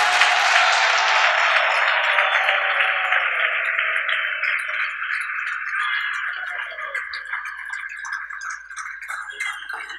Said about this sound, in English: give her a very strong round of applause